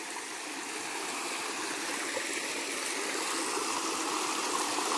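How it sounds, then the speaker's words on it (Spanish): A clear water stream flows along a natural path, a constant close rushing hiss with no voices. "Miren qué bonita agua limpia."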